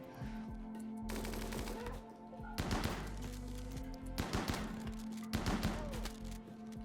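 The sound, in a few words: gunfire in the video game RimWorld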